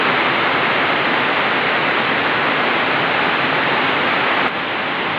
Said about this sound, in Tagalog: nagwawala po yung tubig sa sobrang lakas po ng ulan.